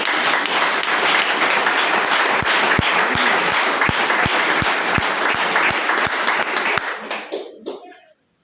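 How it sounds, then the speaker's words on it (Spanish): A church congregation applauds loudly, with dense clapping that carries a steady beat of sharp claps in time, then fades out and stops near the end. "Un aplauso al Señor."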